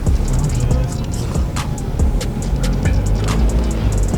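A car engine roars steadily at high revs in a driving video game, accelerating continuously with brief shifts in pitch, loud and close, with a voice occasionally speaking over it.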